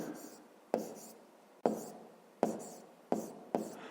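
Pen or pencil writing by hand on paper while a fifth-grade maths exercise is worked out, heard as close, scratchy strokes in several short bursts, each starting sharply and trailing off, with no talk.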